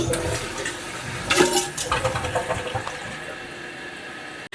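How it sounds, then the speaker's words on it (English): A toilet flushes with a sudden gurgling rush of water, then settles into a steadier hiss and trickle as the tank refills, close by and without voices. "you have to flush the toilet once to verify that the toilet reaches the proper water level"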